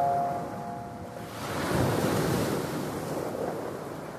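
Pacific Ocean waves roll and wash in a broad, steady roar that swells in the middle, mixed with gusty wind buffeting the microphone, with no voices.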